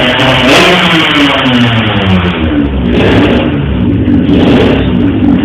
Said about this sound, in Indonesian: Kacau bengkel nih, berisik aja